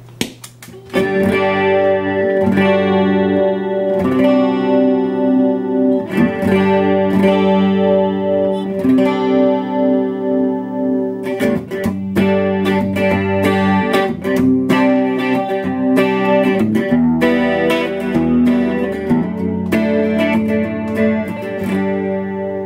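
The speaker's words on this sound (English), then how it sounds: "so we can hear just a basic chorus sound" A clean electric guitar plays sustained chords through a Boss-style chorus ensemble pedal, with a shimmering, gently wavering chorus effect, loud and steady with no voices.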